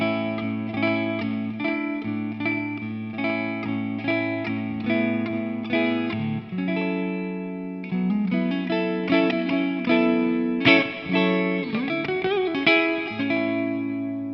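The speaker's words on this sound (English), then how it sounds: "Okay, I'm just going to turn the reverb up because I think it sounds nice," Electric guitar played through a Vox Night Train 15H G2 valve head with the reverb turned up rings out in chords and picked notes, clean and sustained with a lingering reverb tail, and no talking over it.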